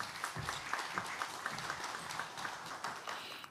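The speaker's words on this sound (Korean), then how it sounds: "단상으로 나오시면 큰 박수로 맞이해 주시기 바랍니다" An audience at a public forum on science and safety technology applauds as a speaker comes to the podium, a soft, steady wash of clapping from a large room with no talking over it.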